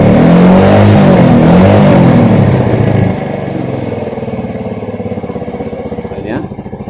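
Yamaha Jupiter Z motorcycle engine revving loudly up close as the throttle opens, then settling back to a lower, pulsing idle.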